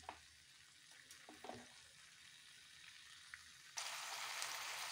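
Ivy gourd pieces sauté in coconut oil in a pan for a Kerala aviyal, giving a soft steady sizzle with a few faint clinks of stirring, and the hiss grows louder and brighter near the end.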